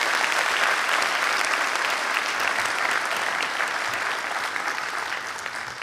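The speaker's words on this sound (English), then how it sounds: "A round of applause, ladies and gentlemen." Town hall audience applauding after the introduction of the Coast Guard captain of the port, thick continuous clapping from a large room that holds steady and fades a little at the close.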